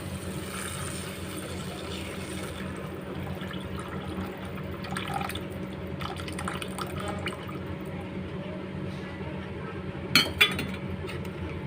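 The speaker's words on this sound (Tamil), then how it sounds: "நம்ம புளி தண்ணி ஊற்றிக்கலாம்." Tamarind water pours steadily into a pan for several seconds, a soft continuous splashing wash, ending with a couple of light clinks near the end.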